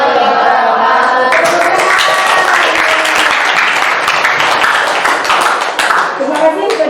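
Audience applause at a junior high school event in Indonesia: dense, steady clapping from a crowd that stays loud and continuous, thinning slightly near the end.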